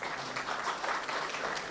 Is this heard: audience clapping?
yes